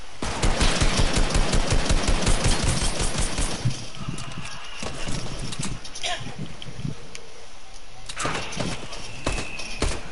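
Gunfire in the video game Fortnite, a loud rapid stream of shots for the first few seconds, then scattered single shots with quieter stretches between, with voices talking at points.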